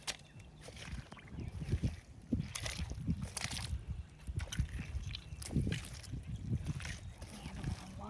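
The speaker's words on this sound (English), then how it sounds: "here the runoff's getting stronger" Stormwater runoff splashes and sloshes into a pond in uneven surges of trickling, gurgling water, close by and moderately quiet, with a person talking over parts of it.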